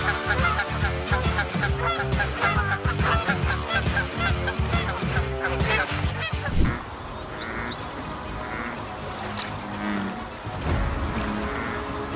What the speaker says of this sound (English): Clashes like this one are a fairly common sight during Canadian geese mating season.